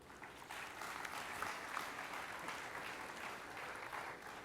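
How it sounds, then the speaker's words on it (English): Audience applause at a spiritual session of an international yoga festival, a sustained even clapping from a seated crowd, moderately distant, without speech. "We can have a bigger round of applause for such a wonderful presentation"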